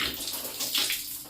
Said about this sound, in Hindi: तो देखिए पानी हल्की स्पीड में रखें आप, हाथ धो लिए हमने 3 मरतबा।